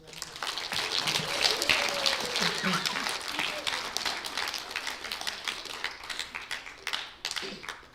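Dense audience applause at a school spelling bee for a speller, many hands clapping steadily and fairly loud for several seconds, with some voices mixed in underneath.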